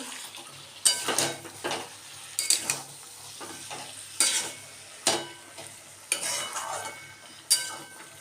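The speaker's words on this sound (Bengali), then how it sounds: "আবার আমি নেড়ে ছেড়ে নিচ্ছি" Cabbage with fish head curry stirred in a pan, repeated scraping strokes of a spatula every second or so over a soft sizzle, close and fairly clear.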